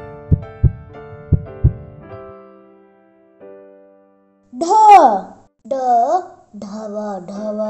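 Heartbeat sound effect: two quick lub-dub double thumps over soft background music, then a voice speaking in short bursts that mimic the beat.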